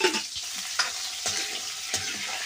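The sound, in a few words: sticks frying in oil in a kadhai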